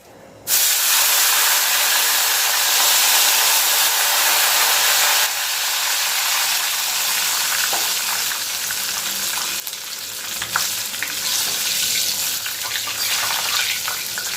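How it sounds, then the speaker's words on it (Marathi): Plain water is sprinkled onto thin potato chips frying in hot oil, setting off a sudden loud hiss and sizzle that stays strong and steady for several seconds, then eases slightly with occasional crackles. "आता मी थोडस साधं पाणी मारणार आहे याला"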